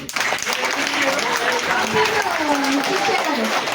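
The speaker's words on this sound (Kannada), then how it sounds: "ಚಪ್ಪಾಳೆ ಹೊಡಿರಿ ಫಸ್ಟ್" A crowd at a children's village assembly in a primary school claps steadily throughout, with voices talking over the applause.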